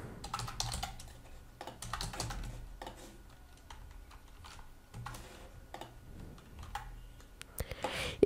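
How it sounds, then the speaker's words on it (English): Rapid, uneven clatter of keys on a computer keyboard as poll answers are typed into a Discord poll maker, coming in close bursts with short pauses and no talking. "Type your answers here."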